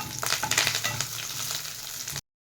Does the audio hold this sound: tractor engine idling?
no